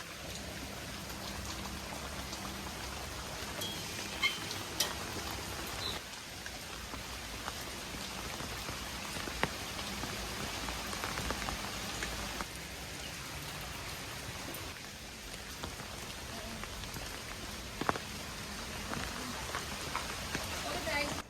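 Steady rain falls throughout on a rainy day, a continuous even hiss of drops on surfaces lasting over twenty seconds, with speech at times.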